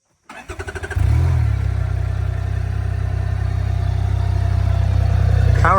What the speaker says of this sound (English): Let's get a start up with that auto start.